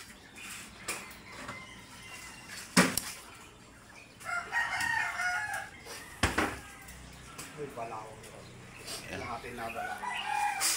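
Chickens cluck and a rooster crows in the distance, over an outdoor background with scattered sharp knocks.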